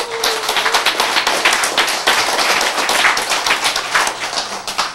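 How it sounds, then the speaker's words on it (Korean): An audience at a sermon claps, a dense burst of many hands striking quickly and unevenly, loud and close, sustained for several seconds. "박수."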